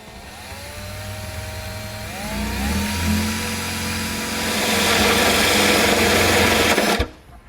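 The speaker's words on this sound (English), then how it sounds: "I'm going to be using a hole saw to make a nice, perfectly round hole" A hole saw cutting a round hole in the plastic tail light of a 2018 Chevrolet Equinox, a loud whining grind that rises in pitch and intensity, then stops abruptly.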